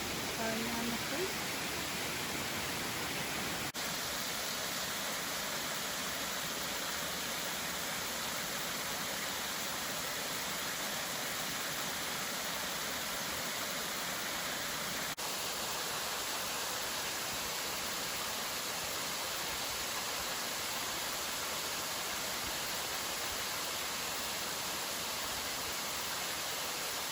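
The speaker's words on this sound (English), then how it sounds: "Water spilling over the side here, starting on the creek." Water spills over a stone wall into a creek in a state park, making a steady, broadband rushing wash that holds constant and moderately close throughout, with no other sounds breaking through.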